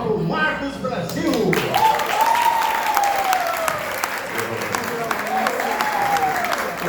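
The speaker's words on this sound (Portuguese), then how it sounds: "quero pedir uma salva de palmas para o Marcos Brasil" An audience claps to welcome a performer onto a stage, with dense, sustained applause filling the room and a voice carrying over the clapping.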